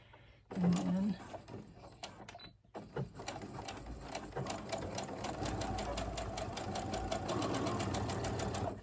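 Sewing machine stitching fabric, starting with a few clicks and short bursts before settling into a fast, even run of rapid needle strokes, close and fairly loud.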